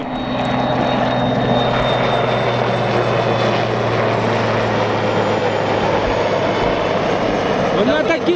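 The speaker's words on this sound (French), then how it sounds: "il y a toujours les paparazzis en hélico qui passent pour nous prendre en photo" Helicopter flying over a beach, a loud throbbing rotor drone with steady engine hum that stays close and constant throughout, the rotor chop pulsing evenly underneath.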